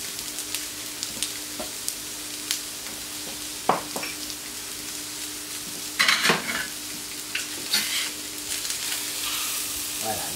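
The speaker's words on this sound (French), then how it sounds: "les petits champignons, on va les laisser cuire tout doucement" Small mushrooms cooking gently in a pan for duck breast with orange, giving a steady soft sizzle broken by occasional scrapes and stirring clatters, close up with no talking.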